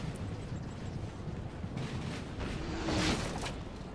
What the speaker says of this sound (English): There's a bit of an artillery duel going on right now.